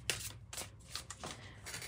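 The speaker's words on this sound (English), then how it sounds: "let's just start shuffling and let's see what wants to come out for you" Tarot cards shuffled by hand at close range, quiet repeated riffling bursts in a steady rhythm, with no one talking.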